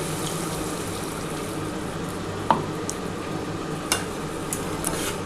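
Water poured into a simmering mustard-paste bata fish curry in a pan: a steady, close hiss and bubbling wash with a few sharp clinks scattered through, no voices.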